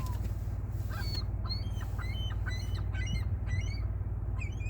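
Seagulls squawk repeatedly in a choppy, overlapping chorus of short harsh calls, some near and some farther off, over a steady low background rumble, with no one talking.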